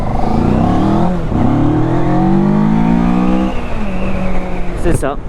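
A Mash FR750 motorcycle engine revs hard and close, its pitch climbing steadily to a high whine, then easing off with a brief rough burst at the end.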